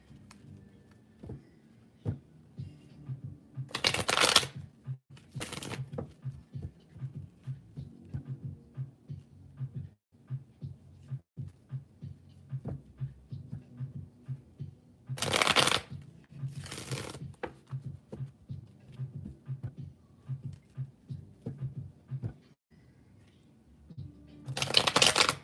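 A deck of cards is shuffled for a card reading in a quiet room, with a few close riffling bursts separated by soft handling and tapping of the cards.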